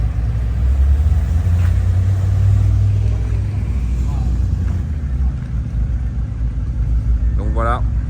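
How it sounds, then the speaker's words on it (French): Car engines warm up at the Nürburgring circuit, giving a continuous low rumble and idle drone from several vehicles nearby. A brief whistle-like sound comes near the end, and people can be heard talking faintly in the background. "Ça commence à faire chauffer les voitures."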